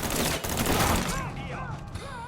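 Gunfire in the video game Mafia III Definitive Edition: a rapid, loud volley of shots fills the first second, then fades as voices and sound effects take over.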